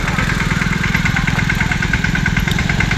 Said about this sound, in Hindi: ये छोटा वाला ट्रैक्टर आ रहा है गांव में